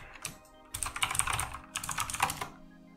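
Close, quiet clicking of a computer keyboard as a short Linux command is typed in two quick bursts of keystrokes with a brief pause between.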